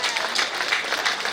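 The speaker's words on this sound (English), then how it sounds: "A round of applause, ladies and gentlemen." A crowd at a People's National Movement political rally in Marabella, Trinidad, claps for a performer in dense, continuous applause for its whole short length.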